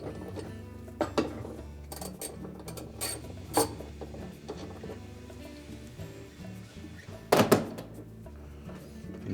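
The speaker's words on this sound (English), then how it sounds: "We're next going to use our 7/16 socket and remove the retaining bolt on top of the drive block." A 7/16 socket works the retaining bolt off the drive block of a GE washing machine agitator, giving scattered metallic clicks and thunks with a few sharper ratchet-like bursts, close up and otherwise quiet.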